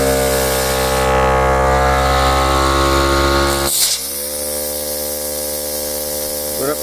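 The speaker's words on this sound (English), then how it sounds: "I'm gonna plug the end of this off and make the pump really work" A VIAIR 88P portable air compressor pump runs hard and loud with its outlet blocked, giving a steady, harmonic-rich motor buzz. Partway through, the tone shifts abruptly and drops to a lower, strained drone that carries on to the end.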